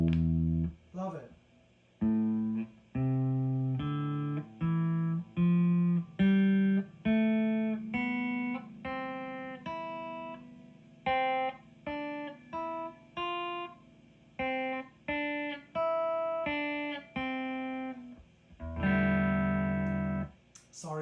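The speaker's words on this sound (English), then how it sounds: "Let's have a clean tone, see what it sounds like." Electric guitar through an amp on a clean tone, played as a slow run of separate plucked notes and a few chords, each ringing briefly before the next, with a final sustained chord.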